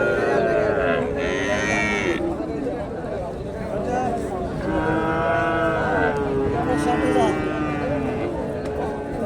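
A Jersey bull moos repeatedly, loud and close, over a noisy crowded cattle market background with people talking throughout.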